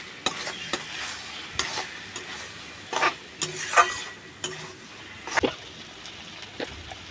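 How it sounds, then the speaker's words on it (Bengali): Loitta fish frying with ginger-garlic paste and spices in a pan, a low sizzle broken by intermittent spoon scrapes and clinks as the mixture is stirred. "দিয়ে ভালো করে আবারও মশলাটা কষিয়ে নিতে হবে"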